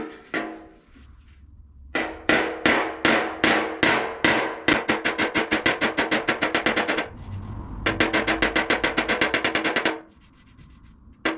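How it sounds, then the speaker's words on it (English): A bodywork hammer taps down a high spot on a welded, ground part from a 1967 Volkswagen Beetle, loud close metallic strikes in rapid regular bursts separated by short pauses, with no speech. "I've just tapped it down ever so lightly with the bodywork hammer"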